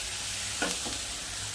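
Onions frying in a pan for a Marathi-style matar paneer with salt and a little sugar, stirred once or twice; a brief scraping swirl rises over a steady quiet sizzle, with no voices.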